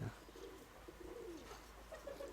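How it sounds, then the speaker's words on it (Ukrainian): Soft, low cooing of a grey pigeon repeats a few times, faint and somewhat distant, over quiet background noise. "Це сірий голуб коробця."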